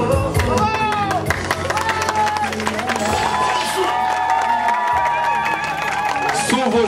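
Wedding guests applaud and cheer the newly married couple at the reception. Loud, dense clapping and crowd noise continue for several seconds, with excited voices mixed in.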